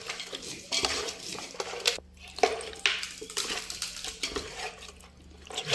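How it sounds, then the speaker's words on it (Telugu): Masala being mixed into chicken for dum biryani, with wet stirring and squelching plus clinks of a spoon against the pot, in irregular bursts at close range. "వేసేస్తాం ఇట్లా వేసుకుని ఇట్లా మంచిగా కలపాలి."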